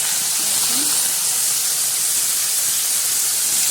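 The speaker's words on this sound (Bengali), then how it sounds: "খুব গরম হয়ে গেছে কড়াটা, ওই জন্য ধোঁয়া হচ্ছে খুব। টমেটোটা দিয়ে দিয়েছি" Tomatoes dropped into a very hot, smoking kadai give a loud, unbroken steam hiss that stays level from start to finish, close up and drowning out everything else.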